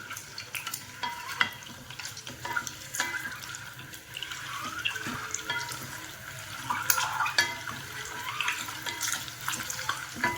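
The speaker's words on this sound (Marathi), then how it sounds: "खूप जास्त फ्राय नाही करायची अंडी" Eggs frying in a pan for an egg spinach curry, a crackling sizzle with frequent clicks and spatula scrapes, irregular and close, swelling louder toward the end with no voices.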